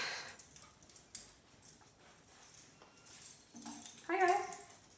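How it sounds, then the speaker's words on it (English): A dog whimpers and yips in a series of thin, high whines that grow louder toward the end, set against a quiet room. "there's a lot of dog noises going on right now."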